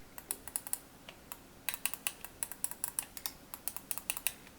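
Side buttons of a SteelSeries Rival 3 Wireless Gen2 gaming mouse clicked repeatedly, a quick series of sharp, close plastic clicks in uneven bursts with short pauses between groups.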